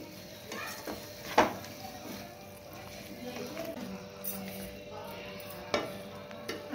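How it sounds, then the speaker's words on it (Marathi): Curd being stirred into vegetables in a hot, sizzling pan, with a steady low sizzle under a few sharp spoon scrapes and clinks against the pan; a voice is faintly present in the background. "आणि व्यवस्थित आपण भाज्यांमध्ये मिक्स करून घ्यायचं आहे."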